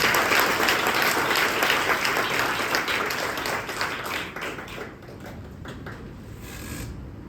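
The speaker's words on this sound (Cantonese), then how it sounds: "而家讓我哋用熱烈嘅掌聲歡迎麥牧師" A church congregation gives warm applause to welcome a visiting pastor at a Sunday service in Kuala Lumpur, dense steady clapping that fills the hall and slowly thins toward the end.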